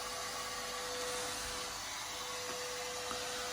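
A Makita power tool cuts through scrap wood offcuts, giving a steady, loud, whining buzz with a constant tone that runs unbroken for the whole span, with no talking.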